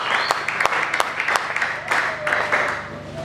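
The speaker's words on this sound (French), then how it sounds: "Donne-moi bien ton acclamation." A congregation at a church worship service applauds and cheers in a mid-level wash of clapping with sharp individual claps and voices mixed in.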